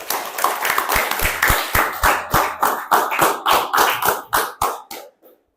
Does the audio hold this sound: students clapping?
yes